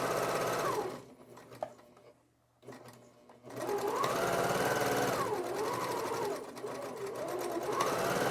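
A home sewing machine stitches quilt fabric squares together in a steady, loud mechanical whir that runs continuously, briefly stops and slows, then resumes at full speed.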